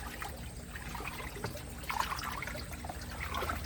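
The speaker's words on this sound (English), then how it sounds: "So you have to mix it up, mix the water up." Hydroponic nutrient water being stirred in a container, a soft, continuous sloshing and trickling with small splashes, fairly quiet and close, with no talking.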